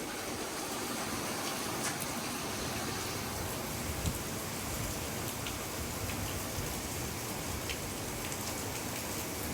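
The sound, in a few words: heavy rain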